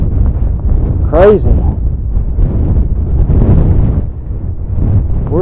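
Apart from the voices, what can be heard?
strong wind blowing on the microphone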